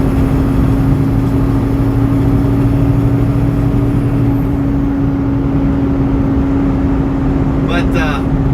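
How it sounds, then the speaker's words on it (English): A Freightliner truck fitted with a Peterbilt ECM drones loudly while cruising on the highway, its engine fan running constantly as a steady tonal hum under road rumble, with a brief hiss near the end. "the engine fan is running constantly right now. That's why it's so loud."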